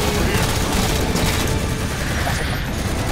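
Halo 4 firefight with heavy, continuous gunfire and blasts filling the scene loudly throughout, while voices shout over the din.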